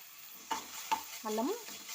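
Turmeric and ginger go into hot oil with softened onions in a pan for a beans curry, giving a low sizzle under a few sharp spoon knocks and a squeaky scraping stir, close and fairly quiet.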